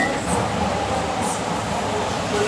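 A London Underground District Line train rumbles through, a steady low roar with faint high squeals, heard from close by without any talking.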